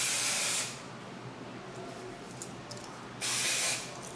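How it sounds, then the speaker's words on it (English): Dry shampoo sprays onto hair in two short aerosol bursts, one at the start and another near the end, each a close, steady hiss with a quiet pause between. "now that we're done with the dry shampoo"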